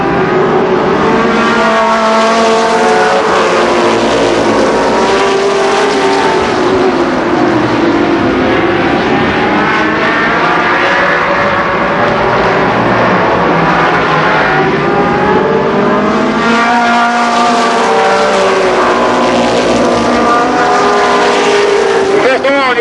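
Race cars roar around the Columbus Motor Speedway oval during a 1990 main event after a single-file restart, engine drones rising and falling as cars pass in a steady, loud pack, with faint announcer-style talk buried beneath.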